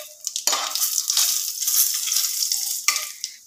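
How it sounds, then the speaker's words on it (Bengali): Cumin seeds and a bay leaf sizzle in hot oil while a spatula scrapes and stirs them steadily for a few seconds, a continuous close crackle with brief scraping accents at the start and end and no voices. "এবার খুন্তি দিয়ে একটু নাড়াচাড়া করবো ভালো করে।"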